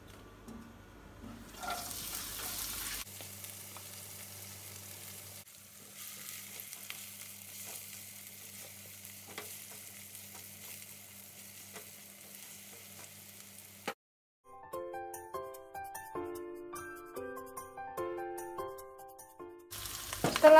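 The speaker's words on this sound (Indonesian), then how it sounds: "Tumis sampai harum." Steady sizzling of food sautéing in a large non-stick frying pan for several seconds, then the sizzle gives way to a short melodic tune.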